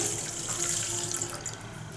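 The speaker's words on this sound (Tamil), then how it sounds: "இந்த பாலையும் இதில் சேர்த்துக்கலாம்." Lukewarm milk pours into a mixing bowl for wheat bread dough, a short, soft, continuous liquid splash and trickle heard close up and fairly quiet.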